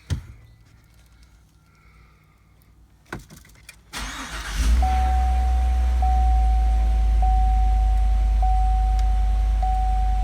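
A GMC Yukon Denali engine cranks and starts after a quiet stretch with faint handling noises, then settles into a steady, loud, close idle with a thin chime recurring over the rumble.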